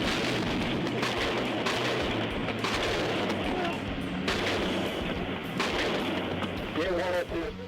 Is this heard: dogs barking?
no